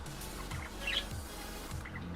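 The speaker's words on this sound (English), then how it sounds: "I have 2 budgies." Two pet budgies chirp indoors, with a few short squawky tweets over a low steady hum of a room fan.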